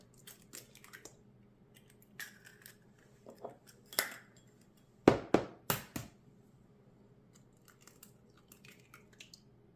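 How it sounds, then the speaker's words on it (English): Two eggs cracked into a large bowl for carrot muffin batter: a few soft taps early on, then a cluster of sharp cracking clicks and wet splats around the middle, close and distinct over a quiet kitchen background. "we're going to start with a large bowl here and we're going to have 2 eggs we're going to crack into there"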